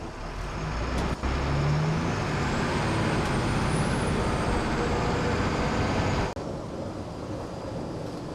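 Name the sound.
LMTV military truck driving at speed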